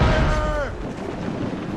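Ship cannons boom in a heavy naval battle in Assassin's Creed Rogue, a loud close blast with a falling whistle, its rumble fading over about a second with no talk during the shot.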